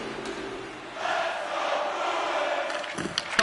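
An arena crowd roars in the NHL 26 hockey video game, a broad sustained cheer swelling after a quieter start, with a few sharp knocks near the end.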